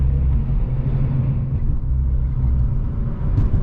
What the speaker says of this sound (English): the RX8 is such a fun car to drive